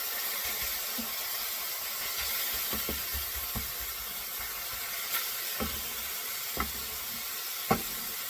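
Italian sausage browning in a pan with mushrooms, giving a steady low sizzle and hiss with occasional faint pops and stirring clicks, close and fairly quiet, no voices.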